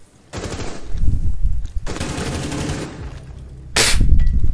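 Automatic gunfire in the video game Rainbow Six Siege rattles in three loud bursts, each a dense stream of rapid shots separated by short lulls, the last one sharper and brighter.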